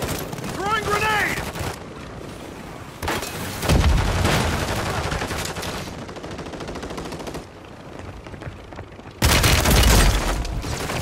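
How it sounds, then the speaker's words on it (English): Gunfire and a grenade explosion in the Call of Duty video game, with rapid machine-gun bursts, heavy booms and a loud blast near the end, while a voice briefly speaks early on. "Throwing grenade!"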